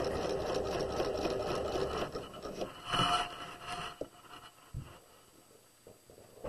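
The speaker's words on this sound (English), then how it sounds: "I'm going to stitch down the back." A sewing machine stitches down the back crotch seam of pajama pant fabric, a close, steady whirring run that slows and stops partway, followed by scattered soft handling clicks.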